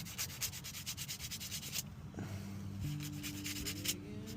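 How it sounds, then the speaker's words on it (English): A small carved wooden spoon is sanded by hand in close, soft rhythmic rubbing strokes that fade after a couple of seconds into faint background hum. "And now we sand it."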